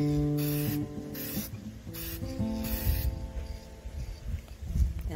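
Spray paint hisses in several bursts onto the tips of fairy wings made from recycled materials, each spray close and loud, separated by short pauses, followed by soft rubbing and handling noise.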